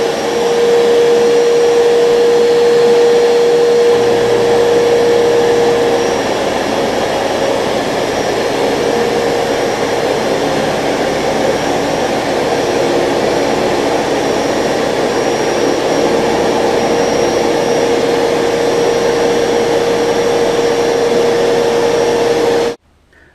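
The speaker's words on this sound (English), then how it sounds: "Once I start it, you'll hear the motor" Rug Doctor deep carpet cleaner running in a room, its motor a loud, steady drone that whines at a fixed pitch, kicks in with a deeper hum after a few seconds and holds continuously until cutting off abruptly at the end.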